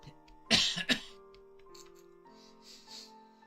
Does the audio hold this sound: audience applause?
no